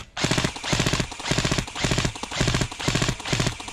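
Airsoft guns fire in rapid automatic bursts, about six evenly spaced volleys of sharp rattling shots, loud and close, with no talking.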